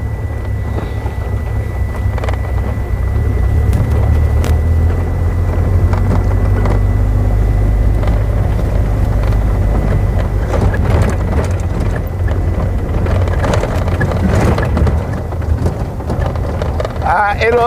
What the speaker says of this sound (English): It won't get cold, but it will become cool while we're having that amount of rain.